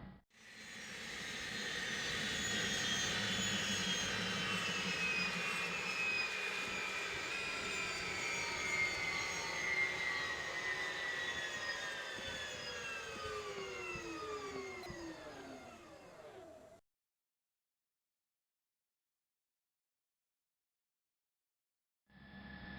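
The jet engine of an F-14 Tomcat in Flight Simulator X winds down after the throttle is cut. A loud, steady whine slowly falls in pitch for about sixteen seconds, then drops into silence.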